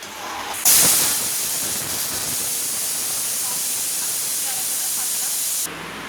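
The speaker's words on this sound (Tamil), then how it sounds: "நாலு விசில் வந்து பிறகு நம்ம பார்க்கலாம் குக்கர் விசில் போட்டுக்கிட்டோம்" A loud, sharp burst of hissing steam starts abruptly from a pressure cooker cooking rice and lentils, then settles into a continuous high-pitched whistle and hiss that runs steadily before cutting off.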